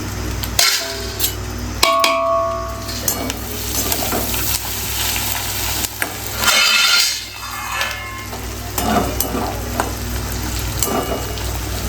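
Dry red chillies fry in a pan with a loud, steady sizzle, broken by the clatter and scrape of stirring and a brief surge of hissing.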